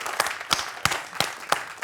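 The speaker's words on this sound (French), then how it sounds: "Je m'applaudis" On a French TV quiz show, a single person claps five times at an even, unhurried pace. Each sharp clap stands apart over a quiet background.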